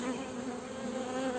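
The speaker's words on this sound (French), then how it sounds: "j'aimerais bien qu'elles sortent les abeilles" Buckfast honeybees hum steadily around a queen cage, a close, continuous buzzing drone with a clear pitched tone that holds at an even, fairly quiet level throughout.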